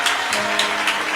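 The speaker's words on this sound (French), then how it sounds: "Acclame encore pour Jésus." A church congregation claps and cheers for Jesus during a Wednesday worship service, a dense, steady wash of applause with periodic swells over about a second, no speech.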